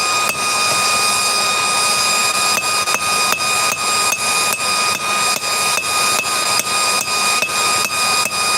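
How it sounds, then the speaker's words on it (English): Hammer forging hot metal at a forge, a steady run of sharp metallic strikes roughly every half second over a constant loud roar from the fire and blower. "Just taking some slow, cool heat here to forge this out."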